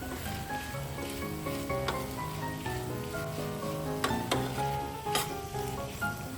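Ivy gourd (tindora) fries in a pan over a medium flame, giving a steady, fairly quiet sizzle throughout with a few brief stirring clicks and scrapes.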